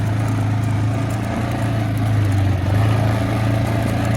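A cheap, long-neglected Yamaha Grizzly ATV engine runs at a steady low idle that needs turning up, a loud, continuous throbbing hum with a slight rise in the middle.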